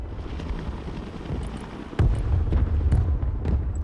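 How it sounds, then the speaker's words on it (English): Two helicopters in the Broken Arrow military strategy game, a steady rotor drone and roar under battlefield noise that thickens and grows louder about halfway through, with no talking. "2 helicopters again, finally."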